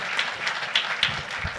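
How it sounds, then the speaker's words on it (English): A city council meeting audience applauds, short dense clapping at moderate volume heard alone, a brief burst of hand claps. "So we applaud you and we send you off with our good graces."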